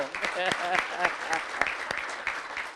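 A school audience applauds with dense clapping throughout, and a voice or two cuts through briefly.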